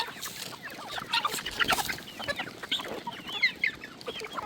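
Desi and Brahma chickens, with turkeys nearby, cluck and chatter in a dense overlapping chorus at evening feeding time, many birds close by with sharp calls rising and falling throughout, no talk.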